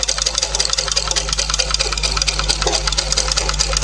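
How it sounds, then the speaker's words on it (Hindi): A sewing machine stitching fabric slowly around a curved seam, a loud, steady mechanical whir with a rapid needle rhythm and a low motor hum, running continuously up close. "जहाँ राउंड है वहाँ हम थोड़ा धीरे धीरे मशीन चलाएंगे"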